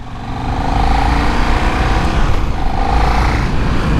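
A KTM Superduke motorcycle ridden on the road with a steady, loud engine drone and rumble heard up close throughout, without voices.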